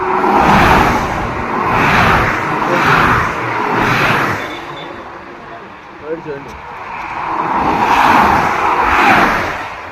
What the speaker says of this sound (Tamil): வண்டி எவ்வளோ ஃபாஸ்ட்டாக போகுது பாருங்கள்.